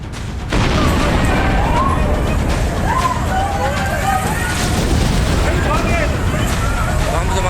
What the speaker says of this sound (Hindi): बम धमाका हुआ है।